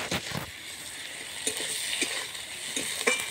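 Eggplant curry with chili powder and ginger paste sizzles and is stirred in a pan, with soft frying hiss and a few scraping stir strokes close by, no talking.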